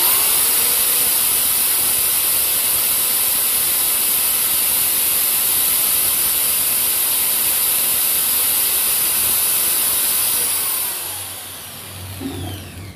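A Total TG105136 13 mm concrete impact drill running without load at about 1400 RPM gives a steady, loud, hissing whine that holds for around eleven seconds, then winds down and fades.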